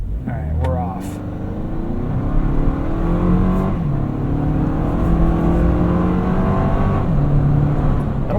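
A 2025 Toyota 4Runner Off Road Premium pulling away from a start, its engine note rising steadily through the gears in a smooth, continuous interior drone, with someone talking over it.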